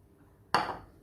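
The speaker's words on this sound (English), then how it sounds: "I'm adding 2 eggs" A single sharp clink as two eggs go into cookie dough for Riviera lovebite cookies, a brief bright knock of shell on the bowl, close and alone.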